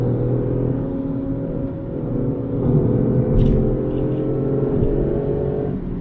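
Toyota Yaris GR being driven, a loud engine drone from inside the cabin that rises and dips in pitch across a gear change.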